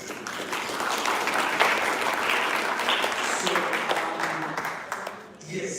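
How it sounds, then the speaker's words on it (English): A room of participants at the close of a youth policy side event claps together, a steady mid-level patter of many hands with some voices mixed in, fading out near the end. "I would like us to clap for ourselves for giving us the patience and the support"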